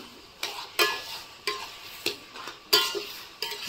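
Bottle gourd curry with tomato and chopped coriander stirred in a pan, about eight distinct spoon scrapes spaced irregularly over a quiet background, each a short broadband swipe, fairly close.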